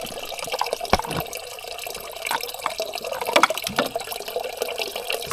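Water from a hose gushes steadily into a tank, a continuous splashing, bubbling flow with a few sharper drips and splashes, close by and with no talking.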